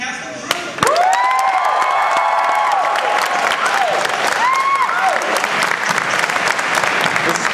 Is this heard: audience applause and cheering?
yes